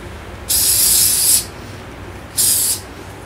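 Two bursts of hairspray from an aerosol can, a longer hiss followed by a shorter one, close up over a quiet room.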